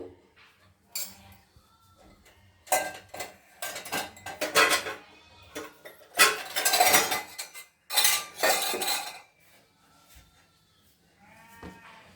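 A homemade rose soap mixture is scraped and tipped into a steel container. Bursts of metallic scraping and clattering come in irregular clusters, separated by short quiet gaps.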